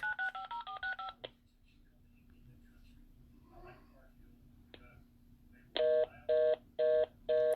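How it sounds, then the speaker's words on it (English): A phone dials a number back with a quick run of keypad tones, then a quiet stretch with faint murmuring. Four evenly spaced, louder tone bursts follow near the end. "I'm using another phone to call the number back"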